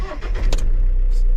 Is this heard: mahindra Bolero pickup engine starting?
yes